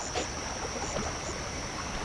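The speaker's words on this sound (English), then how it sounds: "A very nice sound effects from the water" Steady trickling water from the Sly 2: Band of Thieves game, a soft continuous stream with faint splashes and a thin high tone running throughout, quiet and without voices.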